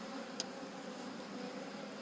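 Honey bees buzz around a hive after a swarm, a soft, steady drone that stays faint and distant throughout, with one brief higher buzz as a bee passes close.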